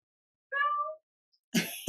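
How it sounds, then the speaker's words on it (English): One short, close meow from an interactive toy cat, then a pause and a brief burst of rustling or handling noise near the microphone. "He just wants to meow right now."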